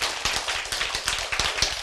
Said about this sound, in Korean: 여러분 자신의 축하 박수를 보냅시다